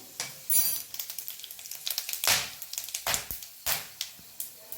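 Cumin seeds sizzling in hot oil for a street-style puri bhaji, a crackling fry punctuated by sharp metal spoon clinks against the pan, close and fairly quiet, with no talking.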